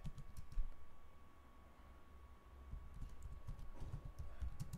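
Quiet typing on a computer keyboard, a soft run of scattered key clicks over a low background hum, faint and close.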